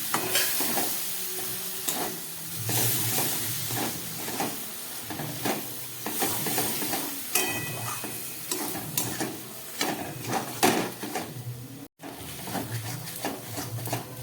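Rajma masala with a couple of spoonfuls of yogurt being stirred and sautéed in a hot pan: steady loud sizzling with repeated spoon scrapes and stirring strokes throughout, no talking.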